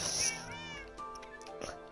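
A video game cat lets out a clear, close meow that rises and then trails off, with a second, shorter mew near the end.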